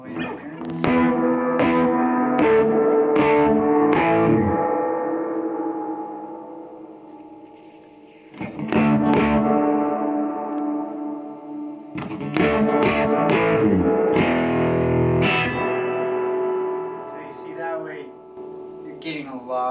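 Electric guitar on the bridge pickup, heavily distorted, strums bright, gritty chords in loud bursts, with a few pauses between phrases and ringing sustain that fades out before the next chords. No talk over it.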